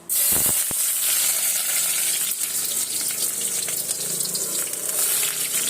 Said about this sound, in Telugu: నూనె కాగుతుంది.